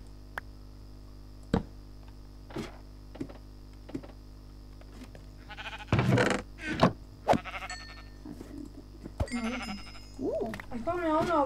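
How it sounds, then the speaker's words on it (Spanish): Video game sheep bleat in short calls against a steady electronic hum, with clicks and a person talking over the later part. "Ha spawnado una oveja aquí arriba"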